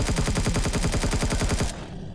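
Enemy gunfire in Empyrion Galactic Survival, a rapid, loud automatic burst of evenly spaced shots lasting under two seconds, then breaking off abruptly into quiet.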